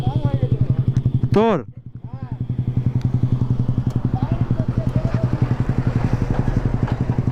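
Yamaha R15 V4 motorcycle with an Akrapovic exhaust, ridden on the road: a close, steady, throbbing engine drone with a sharp rev change near the start. A voice speaks briefly over it.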